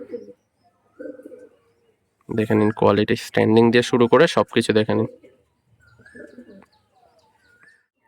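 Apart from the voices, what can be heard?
Arshad liner tournament pigeons cooing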